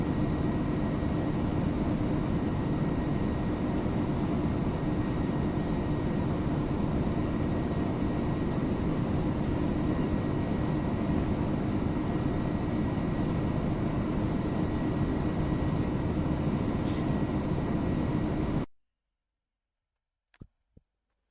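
Steady cabin drone of an Airbus A300F4-200 freighter cruising at altitude in the Prepar3D simulator, a constant broadband engine roar that cuts abruptly to silence, leaving a couple of faint clicks.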